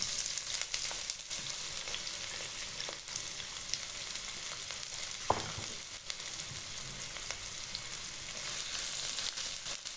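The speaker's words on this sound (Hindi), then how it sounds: "2 प्याज लिए, इनको स्लाइसेस में काट लिया है, ये मैं घी में डाल के फ्राई करेंगे" Sliced onions frying in ghee in a kadai for chicken korma, a soft, steady sizzle with occasional faint clinks, close but quiet, no talking.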